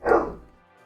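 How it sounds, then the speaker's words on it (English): A dog barks indoors during a Dragon Quest VII gaming session, one loud close bark that quickly fades into a short decaying tail, with no talk over it. "Sorry about the barking."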